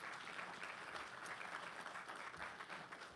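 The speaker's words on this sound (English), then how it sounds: "Let's give him a hand clap of praise." Sustained applause from a church congregation at Sunday worship, a dense, even wash of clapping heard from a short distance.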